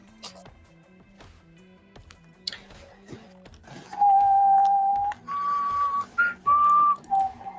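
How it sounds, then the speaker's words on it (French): A person whistles a few sustained, wavering notes in short bursts, loud and close, after a stretch of quiet keyboard tapping and small clicks. "Non, non, tu siffles pas, s'il te plaît."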